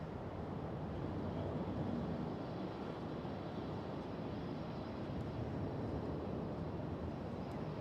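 A KLM Boeing 737 airliner at Schiphol Airport, a steady broadband engine roar that holds at an even, distant level throughout with no nearby talk.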